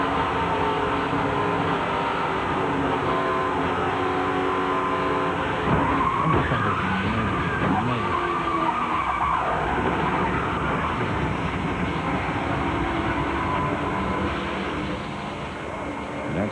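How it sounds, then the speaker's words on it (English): Onboard view of a 1999 NASCAR Cup crash at Talladega, a race car slamming into the inside wall near 190 mph: steady loud engine and road roar with a grinding skid and scraping impact midway, continuing to the end. "That's what it's like to crash at 190 miles an hour."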